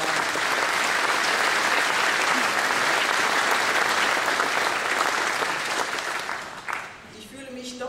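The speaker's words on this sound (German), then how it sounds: "Es ist außerdem ein wunderbarer Applaus." Loud, sustained applause from a large audience at a Sudeten German Day gathering fills the hall with dense clapping, then thins and fades over the last second.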